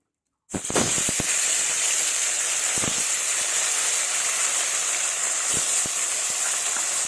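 Fish sizzling and spattering loudly in hot mustard oil in a kadai, a steady dense crackling hiss that starts abruptly as the pieces go in, with a few sharper pops scattered through and no talking.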